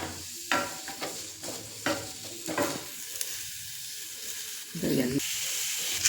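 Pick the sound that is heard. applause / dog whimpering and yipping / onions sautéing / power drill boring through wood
onions sautéing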